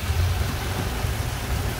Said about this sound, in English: Still drizzling.